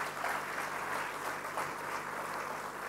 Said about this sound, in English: I will ask you for one applause only for everyone who is here